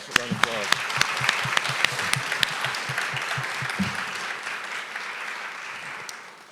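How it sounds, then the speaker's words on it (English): An audience at an Atlanta business panel event breaks into loud, sustained applause, dense clapping with a few sharp nearer claps, tapering slightly toward the end. "everybody give them a round of applause"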